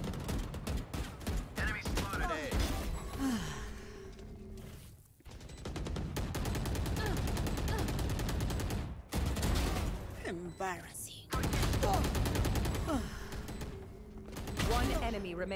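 Gunfire in the tactical shooter game Valorant, rapid bursts of shots in several clusters separated by brief pauses, loud and close, with game sound effects in between.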